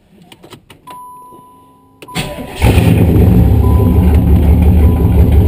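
A few clicks and a brief electronic tone, then a starter cranks and the car's factory 305 V8 engine catches and roars into a loud, steady idle.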